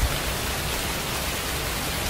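Steady rain falls outside in the woods during a zombie horror short film, a dense even hiss filling the short stretch with no voices.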